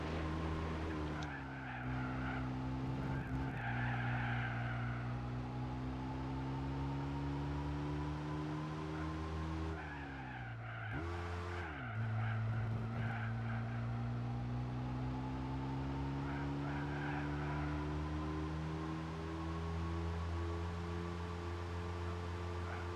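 A BMW diesel demo car in the Gran Turismo racing game skids around the Nürburgring, its engine droning loud and steady with shifting pitch while a continuous tire squeal and slide noise runs underneath, briefly dipping midway.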